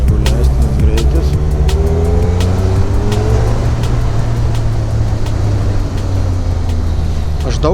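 Motorcycle riding along the Brittany coast, the engine droning loud and steady with rising and falling pitch as it accelerates and shifts, wind rushing over it throughout.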